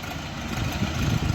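An ORION RF 404 two-cylinder compact tractor runs steadily with a low, rumbling engine note that stays close and fairly even, with slight swells toward the end.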